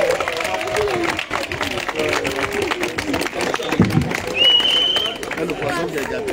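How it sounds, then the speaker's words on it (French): Audience at an Adventist praise concert clapping under a French-speaking voice, a loose patter of hands mixed with crowd chatter and murmur, with a brief whistle or high tone near the end. "Alors vous avez fini d'applaudir."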